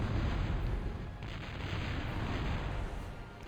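Artillery shelling in the video game Total Annihilation, a heavy rolling barrage of deep booms that rumbles continuously and loudly, easing slightly midway before swelling again, with no voices.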